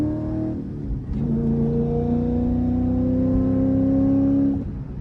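A C5 Corvette on freshly installed QA1 suspension drives hard with its engine droning steadily and loudly, rising in pitch as it pulls under load, with a brief dip near the one-second mark.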